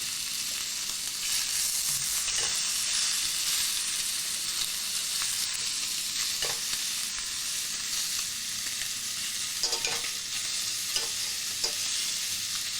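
Bacon sizzles steadily in a hot pan, a constant crackling hiss with occasional sharper pops and faint utensil clinks.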